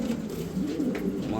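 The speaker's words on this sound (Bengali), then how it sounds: "দেখছেন মাশাল্লাহ একেবারে দেখার মতো একটা মুন্ডিয়ান মাদি কবুতর।" A Mundian female pigeon coos low and steadily, close to the listener, with a continuous murmur and no clear breaks.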